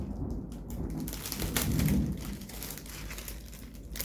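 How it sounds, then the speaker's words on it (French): Steady rain patters on surfaces while a low rumble of thunder swells in the middle of the storm, fairly close and unbroken, with no voices. "Monsieur le tonnerre qui gronde."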